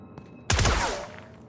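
A single sharp hip-fire gunshot burst from the video game The Outer Worlds, a loud close crack with a short decaying tail, preceded by faint game ambience.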